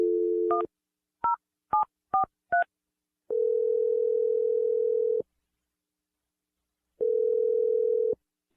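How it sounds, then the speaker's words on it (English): A telephone dial tone, then a quick run of touch-tone keypad beeps as a number is entered, followed by two long ringback tones with a pause between them. All are clean and close, with no voices. "I'm going to dial her number right now."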